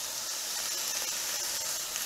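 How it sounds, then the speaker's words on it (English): Onions sauteing with garlic and a splash of soy sauce in a pan make a steady, soft sizzle and hiss, continuous and fairly quiet throughout, with no voices. "saute the onions before we add everything else"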